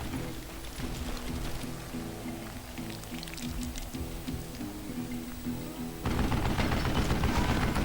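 Gunfire in the Western shooter game Call of Juarez Gunslinger, a steady stream of rapid shots like a mounted machine gun, moderately loud and continuous, turning into a harsher, noisier burst near the end.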